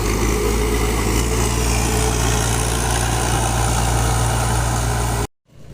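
A tractor engine drones low and loud, idling evenly for several seconds, then cuts off abruptly near the end.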